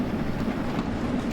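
A steam train in a train simulator game, hauling the Manxman from London Euston to Liverpool Lime Street, rumbles steadily with a constant low drone and faint rolling noise, loud and continuous, with no voices.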